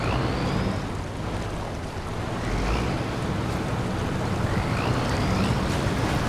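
In the game SnowRunner, a truck pushes through rapid river water, which rushes and churns in a continuous loud wash with a low engine rumble beneath.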